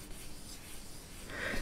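A hand rubs across the soft matte textured surface around the keyboard of an Asus ROG Zephyrus M16 laptop, giving a faint, close, steady scuffing rasp alone.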